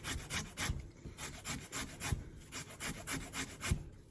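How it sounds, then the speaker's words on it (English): Horseradish root is grated very finely in steady, rhythmic rasping strokes, close and soft, each stroke a quick scrape in an even back-and-forth pattern. "So I'm grating it very finely."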